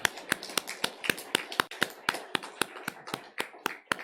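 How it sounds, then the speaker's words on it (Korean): A church congregation claps to congratulate two people, about fifteen crisp claps in a fairly even rhythm, with a small number of hands and little else in the room. "우리 두 분 우리 박수로 힘차게"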